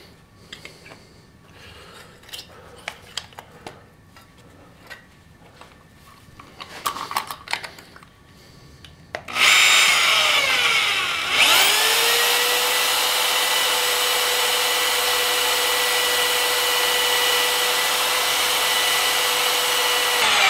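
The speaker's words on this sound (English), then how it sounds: "It's drilling, but drilling pretty slow. That is, you know, pretty hard metal in that cam." A drill boring slowly into the hard metal of a cam for a rear pump drive: quiet handling clicks first, then a loud, steady whine that runs continuously for about ten seconds.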